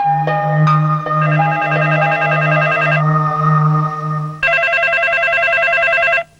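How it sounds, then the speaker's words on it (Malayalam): A telephone rings in a steady electronic pattern, repeating tones, then switches to a brighter, denser ring before cutting off abruptly. "ആ ഫോൺ ഒന്നെടുത്ത് ആരാ നോക്കിയേ"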